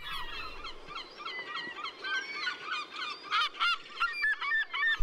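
Herring gulls, including a chick straying into a neighbouring territory, give a busy series of honking, yelping calls that overlap and rise in loudness toward the end, with no talk.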